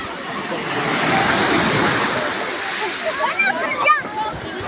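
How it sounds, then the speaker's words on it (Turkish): Sea waves wash and break along a warm beach in a steady broadband surge, with children's and adults' voices calling over the surf toward the end. "Hadi dalga bekleyin dalgayı dalgayı geliyor."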